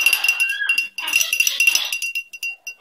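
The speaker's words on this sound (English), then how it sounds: "You going to drop that bell or you're going to keep it?" A small bell held by a pet bird jingles and clinks up close in quick, uneven shakes, with a ringing tone that rises and fades between bursts.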